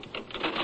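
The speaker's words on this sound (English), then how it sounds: "She doesn't even stop typing, even to answer a question." A typewriter clatters as someone keeps typing nonstop, giving fast uneven keystrokes in dense bursts, close and fairly loud, in an old-time radio drama scene.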